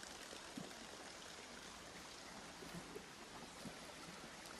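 A waterfall along a road in Sidemen gives off a steady, even rush of falling water that sounds distant and fairly faint, with no voices.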